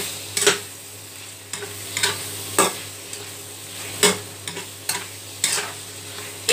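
Squid with black beans sizzles in a hot pan while a utensil stirs it, giving sharp scraping clanks every second or so over a continuous low frying hiss.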